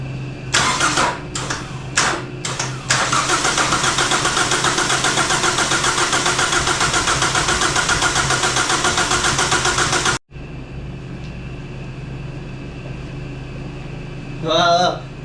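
A cheap used Kia Sportage engine cranks in a few short bursts, then catches and runs loud and steady for several seconds before cutting out abruptly, followed by a quieter idle-like hum and brief chirps near the end.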